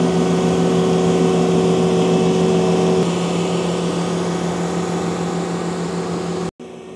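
A Bobcat T86 compact track loader running a Coneteks grinder attachment through frozen ground: a loud, steady, close engine and rotor drone with a constant hum that holds throughout, cutting out abruptly for a moment near the end.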